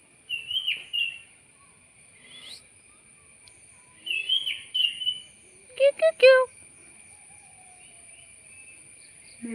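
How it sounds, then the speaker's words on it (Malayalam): A bird gives several short, bright chirping calls in a few separate bursts against near silence, with a thin steady high whine in the background. "ഒരു കിളി കരയണ സൗണ്ട് കേട്ടോ."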